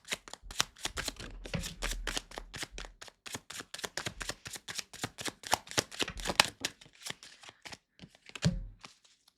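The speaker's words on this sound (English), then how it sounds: "So let's pull some cards." Tarot cards shuffled by hand, a fast run of crisp, close riffling snaps and soft thumps that stops briefly near the end, quiet overall, with no talking.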